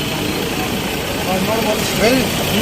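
Ford Endeavour with a 3-litre diesel engine idling steadily, a continuous low rumble with broadband hum, while a voice speaks over it throughout.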